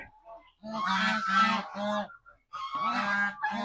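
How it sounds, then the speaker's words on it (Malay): Geese honking loudly and angrily at close range in a home-scale backyard farm, bursts of harsh repeated calls separated by brief pauses, with no talk over them. "angsa ni kalau kita ambil telur dia akan marah"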